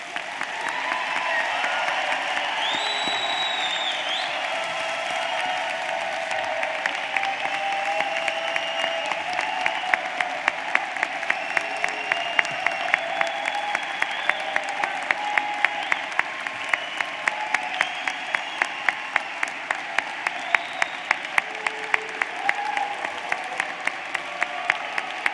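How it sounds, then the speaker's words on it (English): A large commencement audience claps steadily for the University of Tulsa's graduating class, sustained dense applause lasting the whole stretch, with a few sharp individual claps and a faint voice standing out. "please join me in a final round of applause of the 138th graduating class"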